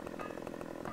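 A chainsaw in a farming simulation game revs with a buzzy, rapidly pulsing drone, a short, steady burst heard alone at moderate level.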